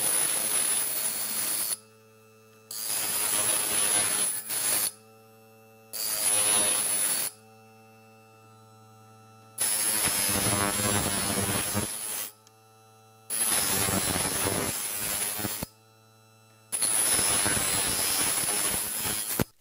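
LIDL Parkside electric sharpener grinding a Laguiole knife blade, in repeated passes of several seconds, each a loud hum with a harsh abrasive hiss, separated by brief pauses with only the motor's faint hum, close.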